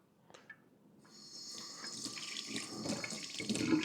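Room-temperature water pours steadily into a mixing bowl for sandwich bread dough, starting after a few faint clicks and building into a continuous, close splashing stream that grows slightly louder toward the end.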